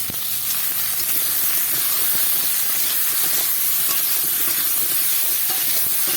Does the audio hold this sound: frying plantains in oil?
yes